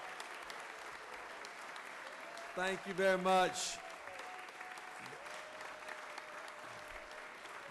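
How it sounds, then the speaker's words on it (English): In the Georgia Senate chamber, a room full of people applauds with a faint, steady patter of clapping that runs throughout, while someone briefly speaks over it. "Let's give them a round of applause."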